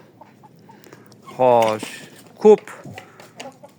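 A hen, one with a growth on its leg, gives a short loud harmonic squawk and then a sharper cluck among farm fowl, with someone talking nearby.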